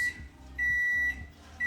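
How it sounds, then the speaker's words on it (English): A kitchen oven sounds two long electronic beeps in steady succession, close and clear over a quiet room. "I hate how much the oven beeps."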